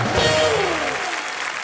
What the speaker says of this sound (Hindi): जोरदार तालियां गोविंदा सर के लिए।